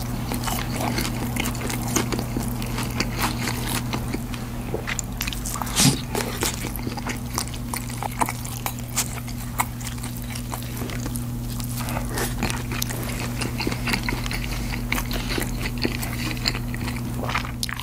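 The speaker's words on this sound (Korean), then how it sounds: "같이 아삭아삭하게 씹히니까 좋네요." Crunchy fried chicken with crisp vegetables and sauce poured over, chewed close to the mic in a steady run of soft crunches and bites lasting the whole stretch, with no talking over it.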